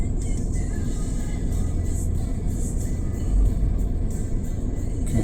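A truck maneuvering through city traffic gives off a steady, loud low engine rumble that stays close and continuous, with no voices over it.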